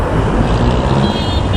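Busy morning road traffic in the Philippines, a dense, loud wash of car and truck engines rolling past close by, continuous with no break.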